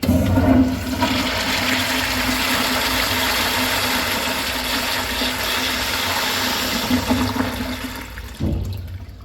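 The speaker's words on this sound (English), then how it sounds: "Let's have a look at a flush." A Standard Madstone pedestal urinal with a siphon jet flushes in a loud, close rush of water that runs steadily for about eight seconds before cutting off, followed by a brief refill gurgle.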